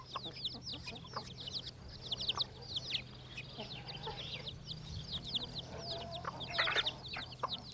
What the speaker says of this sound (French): la poule emmène ses poussins dans la cour de la ferme